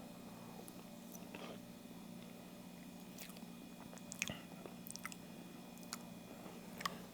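Close, soft chewing of homemade banana pudding topped with whipped cream and vanilla wafers: quiet wet mashing with small crisp crunches scattered throughout, over faint room hum and without speech.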